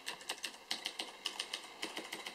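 Keys on a Razer BlackWidow Ultimate mechanical gaming keyboard clack in a quick, steady typing rhythm, sharp and close, with no talking over them.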